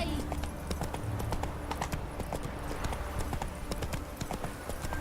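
Horse hooves clip-clop in a steady galloping rhythm in The Witcher 3, loud and close, with a rider's voice calling out over the hoofbeats.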